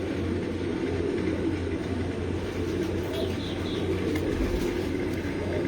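Breeder pigeons cooing in a loft, low throaty coos repeating in a steady, overlapping drone, fairly faint and continuous, with no talking.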